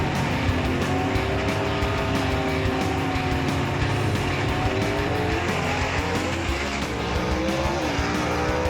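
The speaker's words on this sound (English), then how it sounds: "Horn's car gets out there to about the 400-foot mark and it starts moving toward the center line, but he still moves on to the win" Gasser drag cars launch and race down the strip at Knoxville Dragway, engines roaring loud and steady for the whole run, with tire noise and rising, shifting engine tones as the cars pull away.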